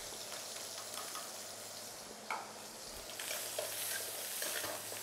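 Garlic and dried shrimp sizzle as they are stir-fried in a wok for a chilli sauce dish: a steady, crackling hiss with occasional scrapes and stirring knocks, heard fairly softly without talk.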